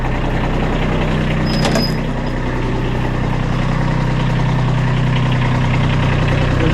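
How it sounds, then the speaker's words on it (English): A Kubota B2301 compact tractor engine idles loudly and close by, a steady, even diesel chug that holds unchanged throughout with no talking over it. "Sorry about how loud the tractor is."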